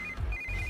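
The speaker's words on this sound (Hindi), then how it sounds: "इस वक्त दीदी का फोन।" A telephone rings with a steady electronic tone in two short bursts, fairly quiet over a low background rumble.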